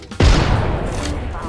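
Gunfire in the video game Apex Legends: a sudden heavy burst of shots starts a moment in and rolls into a sustained loud rumble.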